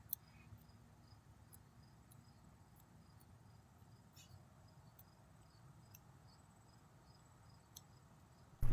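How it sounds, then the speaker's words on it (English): Crickets chirp faintly in a quiet outdoor night, a thin high trilling that repeats steadily over soft background hiss, with a brief knock at the end. "There are legitimate crickets I hear in the background right now"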